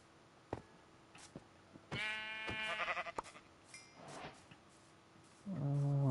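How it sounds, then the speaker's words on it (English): Several Minecraft sheep bleat in short, buzzy, tonal calls spaced across the stretch, one louder and closer near the end, with faint game clicks and thumps between them. "One more sheep."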